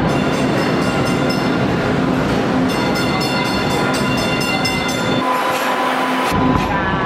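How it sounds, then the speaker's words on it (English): A loud Green Line train rumbles close by, a continuous roar with metallic hum and clatter that shifts near the end as it passes or slows. "That's our train."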